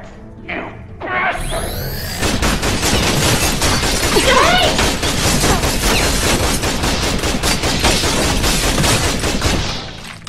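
Guards open up with sustained gunfire in Tales from the Borderlands, a dense, loud barrage of rapid shots that runs almost continuously for several seconds after a brief quieter lead-in.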